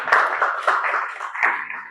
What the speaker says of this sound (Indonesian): tepuk tangan untuk Gazali